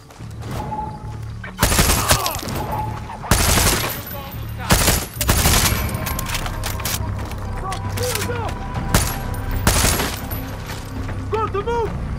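Gunfire in Far Cry 6: bursts of rapid automatic shots and sharp single cracks come in loud clusters over twelve seconds, mixed with mechanical clicks, while a voice talks over the shooting.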